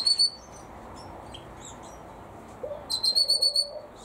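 Sharp, high chirping calls from a red-rumped parrot come in short bursts at the start and again in a rapid, repeated series near the end, fairly close.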